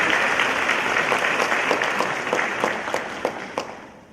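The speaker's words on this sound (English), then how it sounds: "Clap for yourselves" An audience at a Martin Luther King convocation at Alabama State University breaks into sustained applause, dense clapping loud throughout and thinning slightly with a few sharp claps toward the end.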